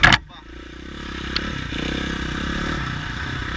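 KTM 2017 EXC-F dirt bike riding a rough mountain mule track, a loud close clatter at the start and then a steady engine drone with gravelly scraping underneath.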